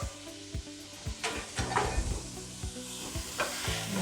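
Browned meat goes back into a pot of one-pot chili with sizzling and repeated stirring thuds and scrapes, a soft frying hiss running beneath the uneven, fairly close knocks of the spoon.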